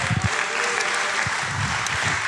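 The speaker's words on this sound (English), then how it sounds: "can you just clap your hands today?" An audience claps along in a short burst during a motivational talk, with a low voice or murmurs underneath.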